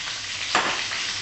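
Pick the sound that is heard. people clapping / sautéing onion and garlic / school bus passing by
sautéing onion and garlic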